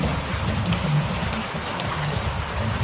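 Steady rain falling, a constant even hiss of drops hitting surfaces, with no voices.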